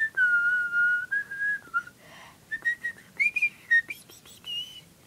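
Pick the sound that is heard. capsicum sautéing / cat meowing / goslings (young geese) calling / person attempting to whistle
person attempting to whistle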